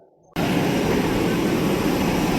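After a brief quiet moment, a loud, steady airliner engine roar begins abruptly and holds constant, close and broadband, at Srinagar airport.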